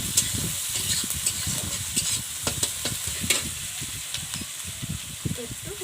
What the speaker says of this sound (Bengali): এখন পেঁয়াজটাকে ভালোভাবে ভাজবো।